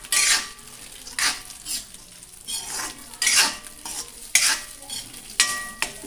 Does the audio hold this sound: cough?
no